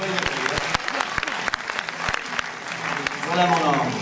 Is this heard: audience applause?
yes